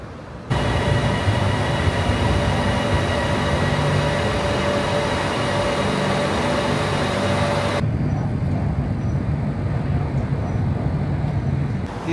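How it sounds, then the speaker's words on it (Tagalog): Steady, loud rumble and hiss of a train ride heading to Lat Krabang Station in Bangkok, a continuous cabin drone with a faint tone that drops away partway through. "dito na ako sa second train sa Latkrabang Station."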